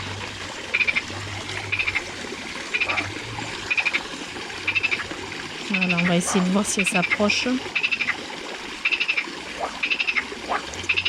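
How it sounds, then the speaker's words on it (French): Frogs croaking in a garden pond, with rhythmic croaks repeating about once a second throughout and a burst of quacking calls in the middle, under a steady low hum while a person speaks briefly. "Décidément, les grenouilles, elles ont décidé de..."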